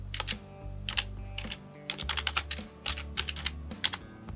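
Close, steady typing on a computer keyboard as a folder name is entered in Windows, with irregular bursts of clicky keystrokes and brief pauses between words.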